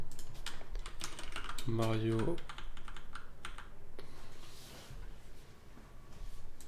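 Rapid typing on a computer keyboard during online account setup, with several bursts of close clicking keystrokes and a short tonal blip partway through.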